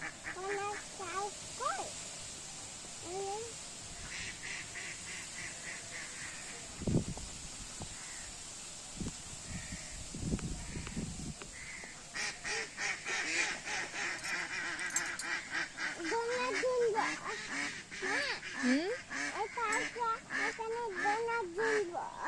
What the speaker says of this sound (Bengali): ওই দা হাঁসটা কেমন চাচা দেখছিস?